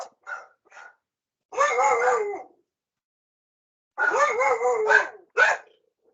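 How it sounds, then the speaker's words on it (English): Dogs bark and howl indoors in a home office, several separate bursts, a couple of short yips and then two longer howling barks, fairly close and loud against silence. "apologies for my dogs"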